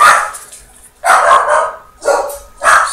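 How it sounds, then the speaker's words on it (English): Several dogs bark indoors in loud, sharp bursts, with four separate barks spaced about a second apart and close to the listener, while a wristwatch is being assembled nearby. "No, the dogs are unglued."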